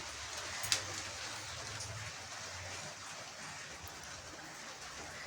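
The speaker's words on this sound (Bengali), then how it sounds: "সারাদিন বৃষ্টি খুব সুন্দর ওয়েদার" Steady rain falls all day around a house, a constant soft hiss of drops with no voices and one brief faint tick early on.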